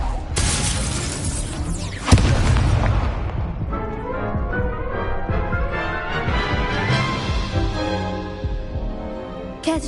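A Confringo blasting spell goes off in Hogwarts Legacy: a sharp shattering boom near the two-second mark, set against a loud, dense wash of game music and effects that runs throughout.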